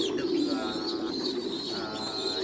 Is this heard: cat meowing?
no